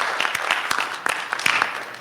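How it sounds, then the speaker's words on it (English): A small audience at a tech conference talk claps in thin, scattered applause with individual hand claps clearly distinguishable, fairly quiet and steady. "So a big round of applause for that."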